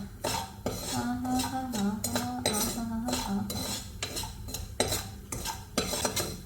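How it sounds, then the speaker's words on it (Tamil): Rava (semolina) is stirred in a pan: a metal spoon scrapes and knocks against the pan in an irregular rhythm of close, clattering strokes, with a low hum underneath. "கைவிடாமல் கிண்டிட்டு இருந்தீங்கன்னா தான் அது வந்து கரெக்டாக எல்லா ரவாவும் வரும்"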